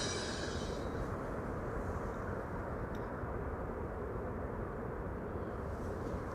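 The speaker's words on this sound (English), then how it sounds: "Here she is, Corendon Flight 598, arriving from Willemstad in Curaçao." Corendon airliner arriving at Amsterdam Schiphol after a long flight from Curaçao, a steady broad jet rumble with hiss holding at even loudness throughout, fairly close and without voices.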